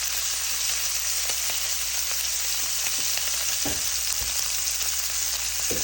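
Steak bites frying in a pan, a steady dense sizzle filling the whole stretch with scattered pops and crackles, close and loud, with no talking.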